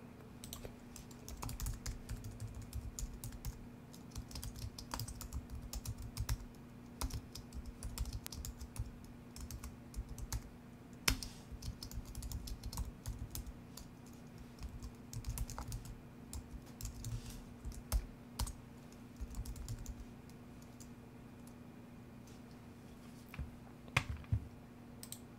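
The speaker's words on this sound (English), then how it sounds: "I'm getting tired of typing all these imports." Someone types on a computer keyboard during coding work, bursts of rapid key clicks alternating with short pauses, close and fairly quiet over a faint steady electrical hum, with no speech.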